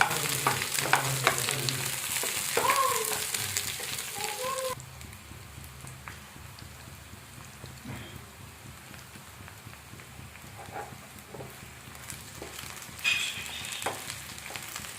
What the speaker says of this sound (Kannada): ಒಂದು 5 ನಿಮಿಷ ಫ್ರೈ ಮಾಡ್ಕೊಳ್ಳಿ.